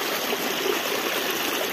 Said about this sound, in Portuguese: Esse aqui possivelmente é o riacho do Tamboril